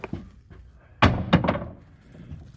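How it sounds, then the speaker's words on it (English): Someone banging on the floor of the unit above, heard from below as a few heavy, muffled thumps, one of them loud and followed by two more close together. "He's gonna go into the unit and bang on the floor because I can't see anything."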